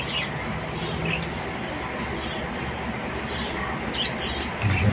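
Busy chirping and tweeting of young birds, high calls scattered throughout over a constant noisy background, with faint cooing mixed in.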